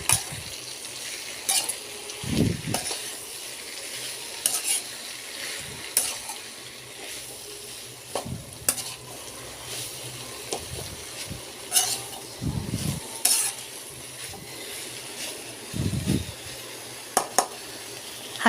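Malabar spinach frying in a pan for an Assamese stir-fry, with soft sizzling under repeated scrapes and clinks of a utensil stirring the greens, close and moderately loud, no talking.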